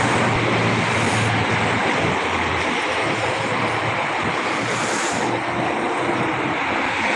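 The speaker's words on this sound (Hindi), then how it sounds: "थोड़ा सा ट्रैफिक का शोर आपको आ रहा होगा" Steady broadband roar of highway traffic during a night walk in Khamis Mushait, constant and fairly loud with a couple of brief swells as vehicles pass nearby.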